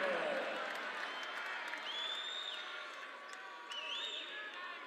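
Riled-up Chattanooga crowd at a Mocs home basketball game against VMI, a broad arena roar with cheering and whistles rising and falling across the stretch, sneaker squeaks audible on the court, and a commentator talking over it.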